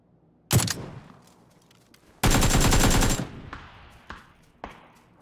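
AKM rifle fire in the battle royale game PUBG: a short burst, then a longer sustained full-auto volley, followed by a few scattered single shots, close and sharp against near silence.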